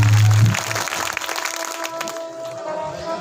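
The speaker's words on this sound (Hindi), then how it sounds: "इन सबके लिए जोरदार ताली बजा दीजिए आप लोग" Crowd clapping at a Ram Katha religious gathering, a broad sustained wash of applause that starts strong and gradually thins, with a low boom at the start and faint tones behind.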